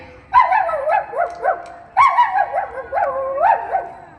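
A small dog yaps in two quick bursts of high, whiny barks, close and loud, with short pauses between.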